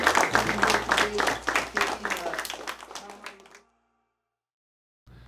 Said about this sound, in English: let's give these people a big round of applause